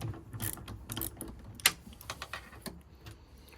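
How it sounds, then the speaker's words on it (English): Ratchet with a 10mm socket turning bolts on a Toyota Auris wing mirror, rapid faint clicking and ticking mechanism sounds with one sharper metallic tap, close and quiet with no talk. "Just make sure my ratchet is the correct way"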